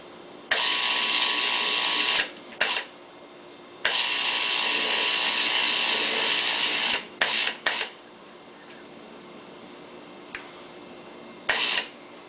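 A Turbo Twister machine twists a fishing leader onto a Spro swivel, giving loud steady whirring runs of a couple of seconds, separated by short clicks and brief bursts of motor sound.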